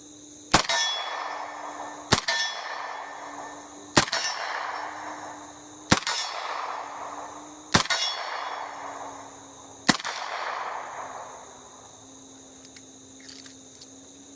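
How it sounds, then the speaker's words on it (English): Six sharp gunshots from a Colt revolver fired double action at a range, evenly spaced about two seconds apart, each a loud crack with a ringing metallic tail, close by and with no talking. "So with some quick shots with the double action"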